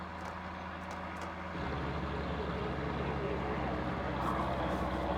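A roughly 70-horsepower diesel tractor pulls at a farm show, its engine droning steadily and then deepening and growing louder as the load comes on, heard fairly close.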